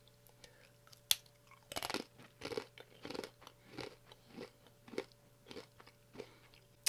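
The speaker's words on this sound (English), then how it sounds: "Now these have such a great crunch on them." Crisp, repeated crunching and chewing of Puerto Rican plantain chips, close to the mouth, with about a dozen evenly spaced bites in a steady rhythm against a quiet room.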